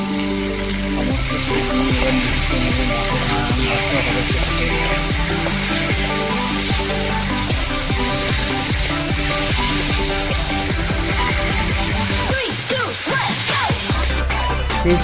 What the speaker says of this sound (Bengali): শেষমেশ আমরা মটন কষা করেই ফেললাম